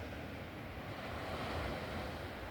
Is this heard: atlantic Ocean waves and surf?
yes